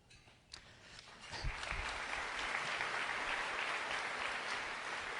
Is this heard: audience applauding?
yes